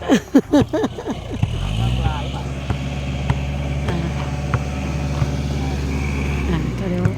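A tractor engine idles with a steady low rumble while leveling a basketball court; people talk over it at the start.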